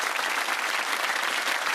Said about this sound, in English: That applause must be a welcome sound